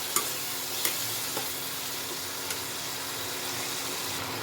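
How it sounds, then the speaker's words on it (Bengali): Spice masala frying and sizzling in a pan, loosened with about three spoonfuls of leftover lentil cooking water for an egg tarka: a steady broadband sizzle with a few soft stirring clicks, close and continuous, with no talking. "এটা দিয়ে আমি মশলাটা কষিয়ে নেব ভালো মতো।"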